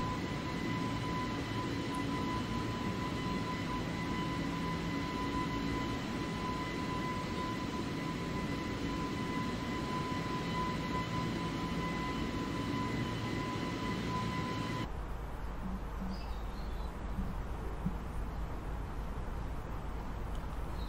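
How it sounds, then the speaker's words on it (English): An A320neo airliner in Microsoft Flight Simulator 2020 gives a continuous jet engine roar with a steady whine. Partway through, the sound abruptly shifts to a muffled, duller hum as the listening perspective changes. "So the sound effects change depending on what angle we are using to listen to the plane."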